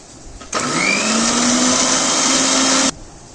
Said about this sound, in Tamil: இன்னும் கொஞ்சம் அரைக்கணும்.